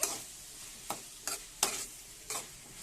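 A spoon scrapes through a pan of potato curry as tomatoes are stirred in, five distinct soft strokes spaced about half a second apart over a faint background sizzle.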